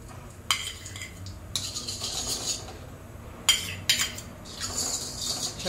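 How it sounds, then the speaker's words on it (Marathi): A spoon scrapes and clinks against a kadhai while a spoonful of ghee is stirred in to prepare for melting jaggery for methi laddu, intermittent sharp metallic knocks over faint background hiss, no speech. "आता आपण त्याच कढईत 1 चमचाभर तूप हे घालून घेऊया।"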